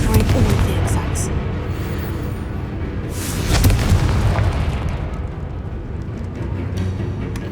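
A Confringo fire spell blast in Hogwarts Legacy booms loudly around the three-second mark within a dense, continuous wash of battle noise and rumbling effects, with a voice audible in the mix.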